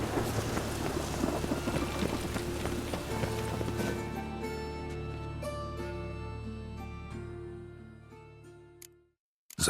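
Steady heavy rain with low thunder rumble from The Witcher III, a dense continuous wash that gradually softens and cuts out at the end, with faint music-like tones underneath.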